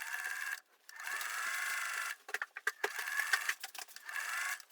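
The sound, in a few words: sewing machine stitching flat cap edges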